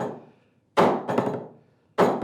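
A hammer strikes a wooden workbench near a glass of water, giving three sharp, close, heavy thuds, each followed by a short ring, with no talk.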